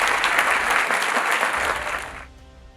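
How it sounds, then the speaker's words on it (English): An audience at a school debate knockout applauds the two competing teams, a dense burst of clapping from a roomful of people that holds steady and then tapers off at the end. "let's appreciate the two teams with a clap"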